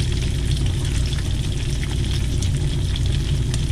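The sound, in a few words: food frying in a pan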